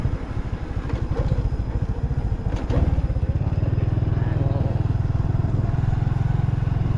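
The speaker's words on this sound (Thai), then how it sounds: "ใส่เกียร์หนึ่งได้ไหมก็ขึ้นเลย" A Honda Wave motorcycle climbs a hill in first gear, its engine chugging loudly and unevenly close by. Brief voices can be heard over it.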